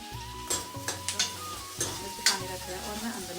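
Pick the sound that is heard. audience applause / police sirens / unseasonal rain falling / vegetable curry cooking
vegetable curry cooking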